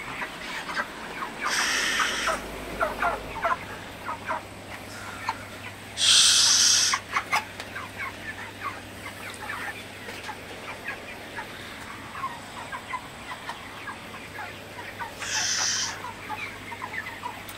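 Broiler chickens about 38 days old and over 3 kg each on a poultry farm give intermittent clucks and short, louder squawking bursts over a low steady hum, with no voices.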